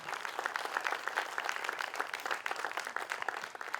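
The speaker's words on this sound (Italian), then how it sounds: "per cui chiedo un grande applauso" An outdoor evening fashion show audience at Castiadas claps steadily, a dense, even applause of many hands that sustains without pause throughout.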